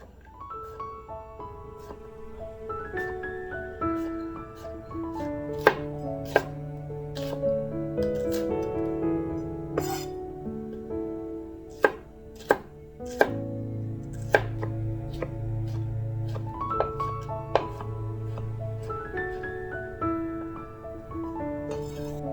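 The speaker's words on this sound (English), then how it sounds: "I'm actually going to start by chopping up the vegetables that needs to be sauteed." Repeated knife chops on a cutting board at an irregular pace as spring vegetables such as asparagus are cut, close by, over soft background music.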